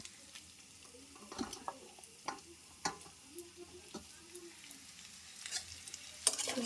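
Eggplant, onion and potato fry in a pan with a soft, steady sizzle, punctuated by scattered clicks and scrapes of a utensil stirring. The whole is fairly quiet, with no talking.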